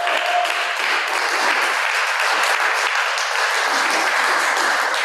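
A conference keynote audience claps for a team in a sustained, even burst of applause, close and full, with no voices over it from start to finish.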